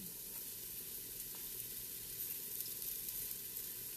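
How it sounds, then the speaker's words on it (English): Diced mushrooms sizzle in a hot pan, a steady, dense crackling hiss that holds evenly throughout with faint bubbling pops underneath. "We're going to drop them in to our hot pan"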